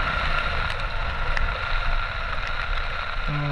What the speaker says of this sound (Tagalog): Ito, lumakas yung hangin.